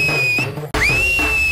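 A man whistles two long, steady high notes, the first sliding slightly and the second rising into a held tone after a brief break, loud and close over a faint background hum.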